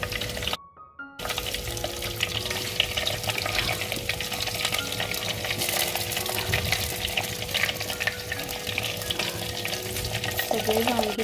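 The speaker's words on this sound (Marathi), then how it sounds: "कढीपत्ता, जिरे, एक एक करून सगळे वांगी टाकून घेऊयात तेलात।" Eggplants frying in hot oil with curry leaves and cumin over a wood-fired village stove, a steady close sizzle with stirring and a brief drop near the start.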